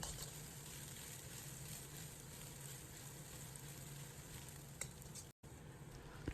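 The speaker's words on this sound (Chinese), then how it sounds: "把蛋液炒散" Beaten eggs stir-fry in a hot wok with a little oil, a continuous close sizzle with a soft scraping patter from the spoon, then a brief dropout before the frying carries on.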